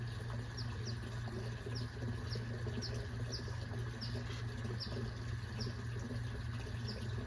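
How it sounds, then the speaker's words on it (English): Birds chirp in short, repeated high calls over a steady low hum and background noise, fairly distant. "Just taking a moment to listen to the birds."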